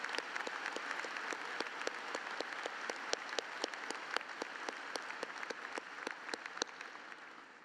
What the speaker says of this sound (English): Please join me in a round of applause for these platform guests.